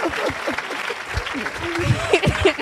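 Applause from a church audience acclaiming Jesus, clapping hands and cheering crowd mixed with voices talking over it, fairly loud and close.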